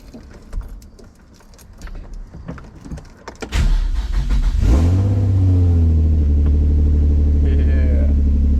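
A Nissan G35 with a new engine cranks and catches after some clicks and rattles, then settles into a loud, steady, close idle rumble, with people talking in the background.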